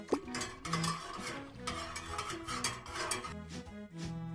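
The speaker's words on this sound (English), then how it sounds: "And now give it a stir." A spoon stirring gelatin salad mixture in a bowl, with repeated light scraping and clinking strokes for several seconds, close, over soft background music.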